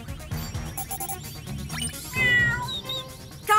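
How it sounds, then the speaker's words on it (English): A cartoon cat meows several times in short, high, wavering calls, fairly close, with a louder drawn-out meow near the end. "I'm picking up bird and cat sounds coming from the park."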